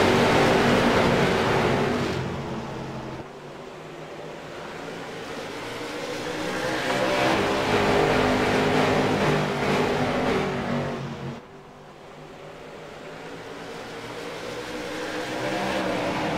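Late model race cars roar around an oval at a SARA Fall Brawl Spectacular event after a green-flag restart, a loud continuous engine drone that swells and fades as the pack passes.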